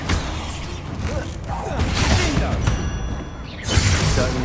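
Bombarda blasting spell going off during a Hogwarts Legacy fight, a dense, continuous roar of crackling blasts and rumbling debris with brief swells, loud and close throughout.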